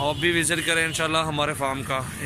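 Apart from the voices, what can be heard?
No everyday noises stand out.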